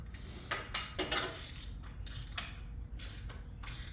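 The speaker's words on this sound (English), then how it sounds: "go back in and thread your new filter in" A new oil filter threaded by hand onto a Harley-Davidson Road Glide Special with a 122 big bore engine, heard as close metallic scrapes, clinks and rattles in short irregular bursts.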